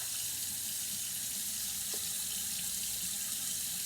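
Steady medium-temperature water runs from a faucet into a sink, a constant broadband hiss that continues unbroken throughout, close by and with no talking.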